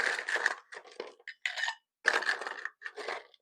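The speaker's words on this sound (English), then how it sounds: "we are going to get a good amount of ice in here" Ice cubes dropped into a glass for a cherry Old Fashioned cocktail, clattering and clinking in several close bursts with brief pauses between handfuls.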